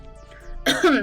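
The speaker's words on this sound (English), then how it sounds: "Sorry about the cough, everyone." A single harsh cough bursts out up close after a brief quiet moment, rasping and throaty.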